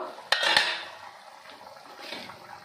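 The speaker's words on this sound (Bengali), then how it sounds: "ঢাকনাটা খুলে নেব।" A cooking pot's lid is lifted off during the making of hilsa fish with gathi kochu (taro), with a couple of sharp metallic clinks followed by a soft simmering wash, close and moderately loud.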